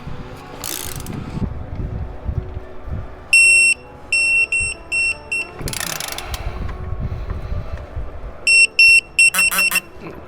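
A torque wrench tightens a lower dogbone engine mount bolt on a Mk6, giving a sharp high electronic beeping pattern that signals target torque, amid ratcheting clicks and rustling workshop noise, close and loud.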